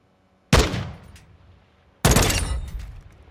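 Two separate battle rifle shots in Call of Duty: Modern Warfare II, each a sharp loud crack with a decaying tail, about one and a half seconds apart.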